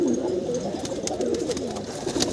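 Pigeons coo nearby in soft repeated rolling phrases, with a faint, continuous background hiss.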